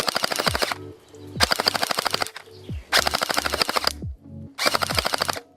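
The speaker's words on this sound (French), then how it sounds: "Elles explosent, hein, tout simplement en plusieurs milliers de morceaux de petits bouts de gel" A Watersoft M19 gel blaster fires rapid bursts of shots with gel beads splattering against a tree close by, four loud volleys separated by short pauses.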